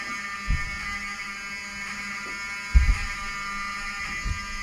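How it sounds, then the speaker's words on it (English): A hotel fire alarm sounds steadily indoors, a continuous buzzing tone that carries through the whole stretch, with a few soft thumps and knocks underneath and no talking. "I want them to hear the fire alarm."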